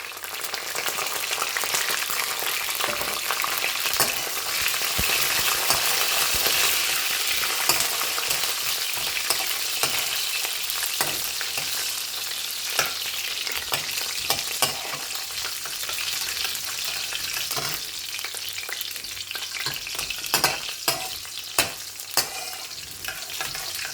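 Whole garlic cloves frying in a pan over low gas heat, a dense continuous sizzle with scattered crackles and occasional stirring scrapes, close and steady throughout.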